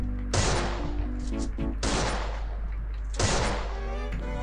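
Gunfire in the Free Fire mobile game played on an emulator: three loud bursts of rapid shots, each about a second long, separated by short pauses with faint background noise.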